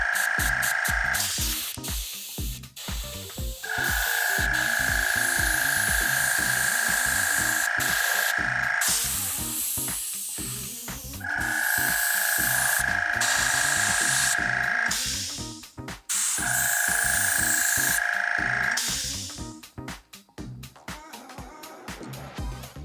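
An airbrush sprays ink through a stencil onto skin for a temporary two-color tattoo, hissing in several long bursts separated by pauses with mechanical ticking and clicking between them, close and without talking.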